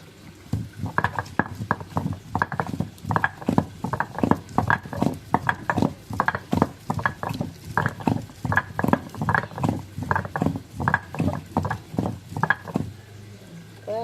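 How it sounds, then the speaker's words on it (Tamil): Tamarind is ground by hand on a traditional stone grinder (ammi), a steady rhythmic rolling and scraping of stone on stone, repeated about twice a second, close and moderately loud. "அடுத்து புளி வச்சு அரைக்க போகிறோம்"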